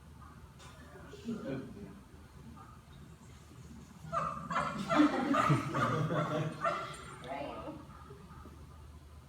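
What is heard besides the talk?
dog barking non-stop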